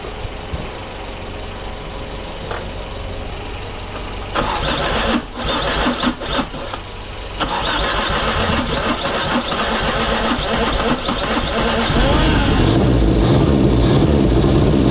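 A Toyota 7K turbo engine cranks and fires up for its first start, running with a fuel line blocked off to return. The engine is loud and close, with rough, uneven bursts early on before settling into a steadier, stronger run.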